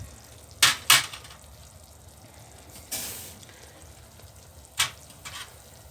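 Sesame seeds hit a hot pan with several bursts of sharp sizzling, two quick loud hisses early, then a softer spreading fry and another sharp burst later, with quieter crackle between.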